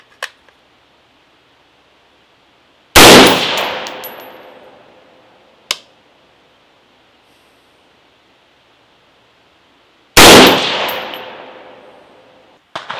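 A scoped rifle fired at a 50-yard target while zeroing, with two loud, sharp outdoor shots and their long echoing decay, plus a few small clicks of handling in between and no talk.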